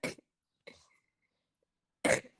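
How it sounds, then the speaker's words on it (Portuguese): Two short coughs separated by a pause, with a fainter rough throat sound between them, close to the listener in an otherwise quiet room. "Uma tosse de cachorro velho."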